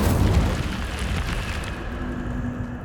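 An Incendio fire spell blast from the video game Hogwarts Legacy: a loud, broad rumbling burst that begins at full strength and then settles into a sustained roaring crackle.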